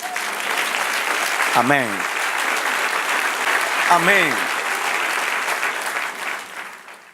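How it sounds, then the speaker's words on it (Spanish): A church congregation applauds steadily and loudly throughout, with a voice calling out twice over the clapping before it tapers off at the end. "Dale un aplauso al Señor."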